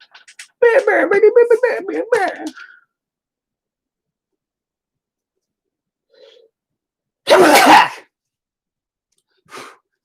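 One loud, explosive sneeze bursts out after a stretch of voice and a quiet pause, followed by a short breathy sound.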